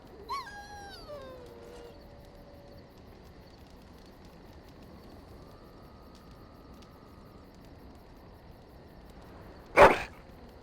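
A dog in Dragon Age: Origins gives a short, high, falling whine at the start, followed by a long quiet stretch and then a single sharp, loud burst near the end.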